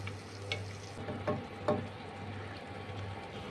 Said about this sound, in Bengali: পেস্টটাকে ভালো করে কষিয়ে নেব